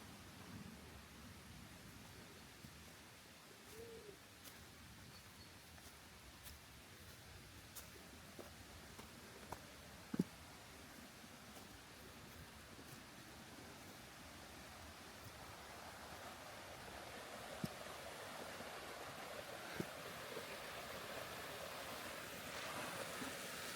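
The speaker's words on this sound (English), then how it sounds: "that was just the introduction to the waterfall" A steady, soft rushing of falling water from a waterfall in a mountain valley, distant and continuous, with a few faint knocks and footsteps along the hiking trail.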